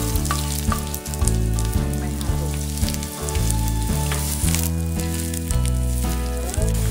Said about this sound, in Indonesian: Kita tumis bawang bombaynya.